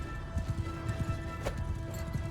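In the video game Mount & Blade II: Bannerlord, horse hooves clip-clop in a steady galloping rhythm over a constant droning background, moderately loud and close.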